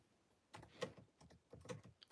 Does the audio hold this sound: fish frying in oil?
no